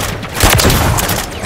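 Gunfire from the Call of Duty video game, with a dense, booming volley of shots that runs loud and close through the whole moment, layered over the game's mechanical clatter.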